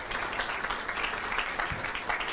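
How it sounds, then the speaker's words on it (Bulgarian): Audience applause welcoming a speaker onto the stage at a cryptocurrency conference in Sofia, a steady patter of many hands clapping throughout, moderately loud in the hall with no talk over it. "Помогнете ми да посрещам с аплодисменти Адриан Кирилов"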